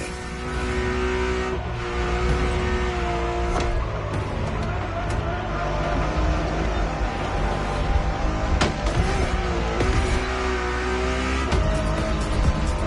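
A Ferrari Enzo supercar engine drones and revs continuously in The Crew Motorfest racing game, with shifting pitch and brief gear changes, loud and close throughout.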